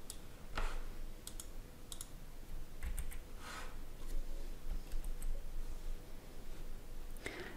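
Someone types an SQL query on a computer keyboard, with scattered quiet key clicks and taps in short bursts over a steady low hum and no voices.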